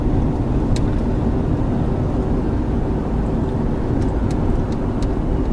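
Steady low rumble of a manual-transmission car cruising in fourth gear at about 35 mph, continuous engine and road noise throughout.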